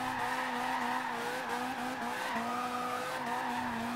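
Tires slide and squeal steadily on a 2016 Mazda MX5 drift build in Forza Horizon 2, a continuous wavering screech over engine drone lasting the whole stretch, loud and close with no voices.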